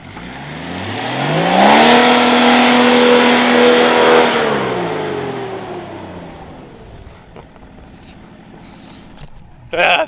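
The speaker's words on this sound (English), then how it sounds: "Ah dear, it's a cool sounding truck" A BMW-powered P38 Range Rover off-road truck revs hard on a muddy track, its engine note climbing and holding loud for a few seconds before dropping away to a lower idle; a voice is heard briefly near the end.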